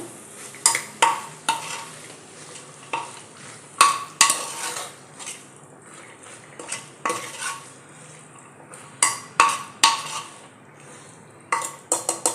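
Chole masala for Kolhapur-style chole bhature is stirred and sautéed in a pan, with repeated metal spoon scrapes and clinks against the pan over a low sizzle, irregular and close, with no talking.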